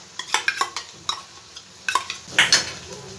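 A spoon scrapes and clinks against a pan while homemade yogurt is stirred into spices, in a handful of short, bright knocks and scrapes with brief pauses and a faint sizzle underneath.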